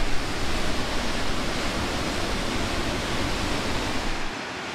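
Lower Falls, a 50-foot waterfall in Idaho, roars steadily, a dense constant rush of water without pause, loud and close, easing slightly at the very end.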